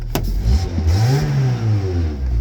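A free used car with a possible exhaust leak revs hard close by, its engine pitch climbing and falling in one sustained vroom after a sharp knock at the start, with no talk.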